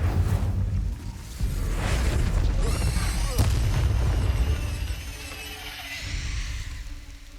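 Confringo and Incendio spell blasts in Hogwarts Legacy, a string of booming bursts and fiery whooshes with crackling tails, loud and close, following one another over several seconds.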